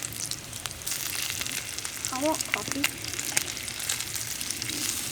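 Bacon frying in pans over a campsite fire, a steady broadband sizzle and crackle running throughout, with voices talking briefly over it near the middle.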